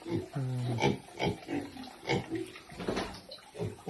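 Pet pigs at feeding time in a pen, grunting and slurping close by in short bursts with watery splashing as they eat, while people talk nearby.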